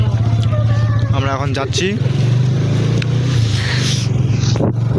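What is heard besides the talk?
motorcycle starting and riding off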